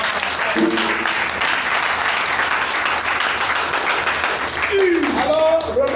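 A church congregation applauds in a loud, sustained burst of clapping for about six seconds, with brief voices and cheers rising near the end.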